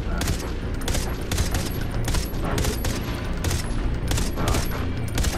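Rapid, continuous gunfire from a hard-recoiling weapon in the video game Far Cry 3 Blood Dragon, a dense burst of repeated shots that runs steadily throughout at a loud, close level with no pauses.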